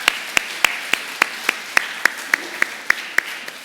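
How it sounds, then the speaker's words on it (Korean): A few slow, evenly spaced single claps from a church congregation during a Sunday holiness worship service, sparse and crisp, about three or four per second. "우리 두 분 위해서 박수 한번 쳐주시면"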